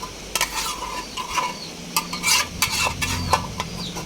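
Tiny fish and a few shrimp hit a hot pan already seasoned with coriander and cumin powder, giving a steady close sizzle broken by repeated scraping strokes of a spatula stirring them through.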